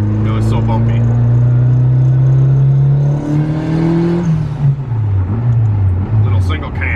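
A Honda Civic with a single-cam engine on newly installed coilovers revs hard while driving, its loud engine drone climbing in pitch, shifting, then rising and dipping again, with people talking over it.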